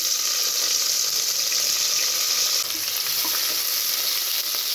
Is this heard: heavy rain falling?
no